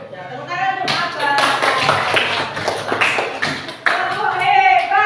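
A group claps a quick rhythmic pattern of bright hand claps while voices chant along, loud and close.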